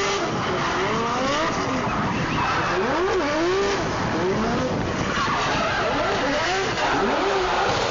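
Ryan Tuerck's car drifts along a mountain road, its engine revving up and down in repeated sweeping surges while tires squeal and skid continuously, loud and close throughout, with no talking.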